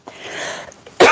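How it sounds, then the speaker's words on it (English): One person coughs, a soft breathy throat sound followed by a sudden sharp, loud cough burst at close range. "Sorry about the coughing."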